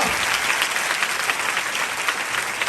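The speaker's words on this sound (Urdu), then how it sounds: "ذرا تالیاں بجائیں مسیح کے لیے زوردار" A church congregation claps loudly and steadily for a few seconds, dense close applause from many hands filling the room.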